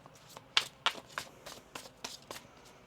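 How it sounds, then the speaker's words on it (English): Tarot cards being shuffled by hand in a quiet room, a run of crisp riffling bursts and soft slaps, two sharper snaps early on, then lighter rhythmic flicks. "One more shuffle."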